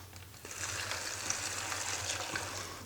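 Hot water, 450 ml, pouring steadily into a German Travellunch ration pouch of elbow pasta and tomato powder, a continuous close splashing gush with no talk.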